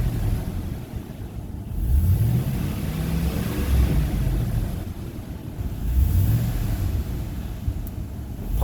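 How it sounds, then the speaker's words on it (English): Chevy Silverado engine idling with the AC on and the compressor clutch cycling, a low, close rumble that swells and eases in slow repeating surges, with no talking. "As soon as I turn the AC back on, gotta wait for the computer to turn the compressor clutch in,"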